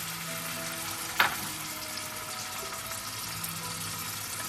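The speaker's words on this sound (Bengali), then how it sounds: "অল্প করে ভেজিটেবল অয়েল ঢেলে দিচ্ছি। আদা আর লঙ্কা বাটাটা দিয়ে দিলাম।" Ginger and chili paste sizzles steadily in vegetable oil in a pan, a close, even hiss with one sharp spit or clink early on.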